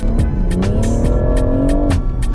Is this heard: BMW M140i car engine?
yes